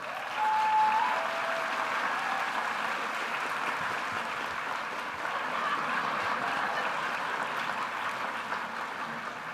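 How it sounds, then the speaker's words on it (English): A college convocation audience applauds the student MCs in a sustained, even wash of clapping that lasts the whole stretch, fairly loud and with no speech. "Let's give them a round of applause."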